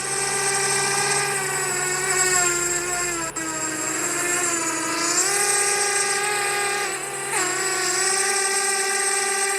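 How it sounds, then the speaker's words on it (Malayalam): A flying drone whines steadily and loudly, its pitch rising and falling as it changes speed and manoeuvres, close by throughout with no talking. "എന്നിട്ട് നമുക്ക് ഡ്രോൺ എടുക്കാം."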